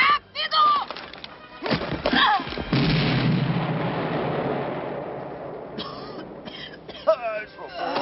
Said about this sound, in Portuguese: Tire o pino, jogue a granada.